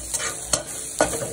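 Steady sizzling of grasshoppers frying in oil, with a couple of louder scraping stirs in the pan.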